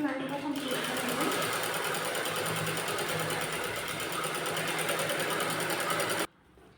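A sewing machine runs continuously, stitching a line on a net fabric blouse, with a close, steady whirring hum that cuts off abruptly near the end.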